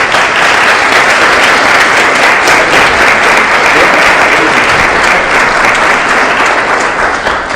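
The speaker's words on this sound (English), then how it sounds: "Please let us have some applause for him and how important he is." An audience at a debate bursts into loud, continuous applause for a speaker being called to the podium, dense clapping steady from start to finish.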